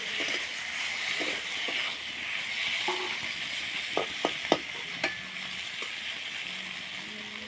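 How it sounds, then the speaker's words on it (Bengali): Spiced frying in a pan for a ridged gourd and prawn dish, a steady broadband sizzle with a few sharp stirring clicks near the middle, close and continuous with no talk. "ভাজাটা আমার হয়ে এসছে"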